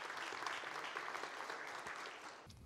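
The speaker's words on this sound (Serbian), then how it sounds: "molim da ga pozdravite aplauzom" Steady audience applause fills a conference hall at a telecom networking event, dense and even throughout, then cuts off sharply near the end.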